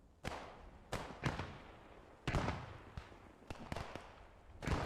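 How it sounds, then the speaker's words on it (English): Sharp rifle shots and heavier blasts ring out in a World War II battle in the video game Post Scriptum, several irregular cracks and booms with short decays, some close and loud, others fainter. "Lots of shots being exchanged"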